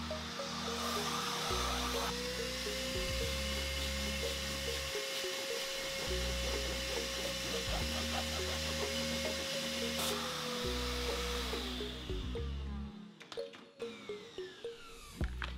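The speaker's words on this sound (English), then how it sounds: "we get our wet and dry vacuum and just suck the moisture out really quickly" A wet and dry vacuum sucks moisture out of a damp kilim rug, giving a steady, loud motor whine with a constant tone that runs for several seconds before cutting off near the end.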